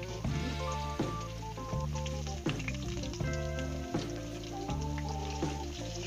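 Cut potatoes and ridge gourd hitting hot oil with green chilli and tempering spices in a pan, a steady, moderately loud sizzle with small bursts as pieces are stirred.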